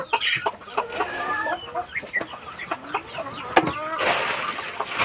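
Chickens and other poultry, some of them disabled, cluck and call repeatedly at close range on a rural farm. A steady background hum runs under the calls and a brief rustle comes near the end.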